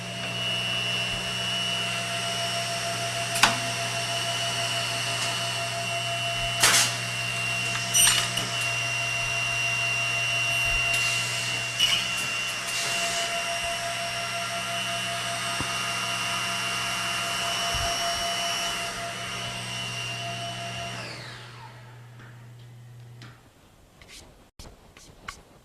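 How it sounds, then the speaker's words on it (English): A Laguna Bandit 2 edgebander with its top, bottom and end trimmers and feeder running: a steady mechanical whine and hum with sharp intermittent cutting clacks, then the motors spin down and fall quiet. "We start the trimmer, top and bottom and end."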